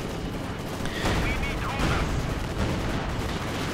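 Gunfire and cannon shots in the World War II strategy game Company of Heroes 2 come as a busy, overlapping battle din of bursts and booms, with someone talking over it.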